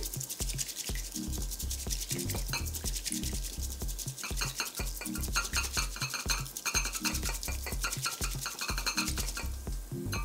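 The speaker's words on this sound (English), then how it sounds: "And you wanna whisk pretty vigorously in like a zigzag motion." A bamboo whisk beats matcha vigorously in a zigzag inside a bowl, making a fast, steady, scratchy rhythm of close sweeping strokes with a faint sloshing of liquid, and no voices.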